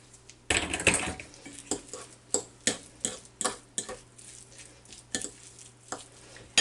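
A spoon stirs egg salad made with mayonnaise, pickle, salt and pepper in a bowl, making a steady series of close, crisp clicks and scrapes about twice a second.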